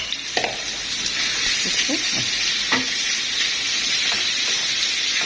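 Chicken sizzling and frying in a hot pan for Chinese cashew chicken, a steady close hiss of oil with a few soft clinks and stirring scrapes, no talking.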